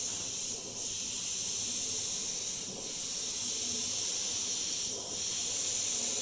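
Airbrush sprays transparent black paint in a steady, soft hiss, with three brief dips where the spray pauses, close and continuous with no talk.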